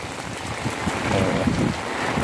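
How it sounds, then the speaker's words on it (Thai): Strong wind roaring and buffeting through colocasia plants in the rain, a broad rushing noise that swells slightly midway, with no talking. "ลมแรงๆนะครับ"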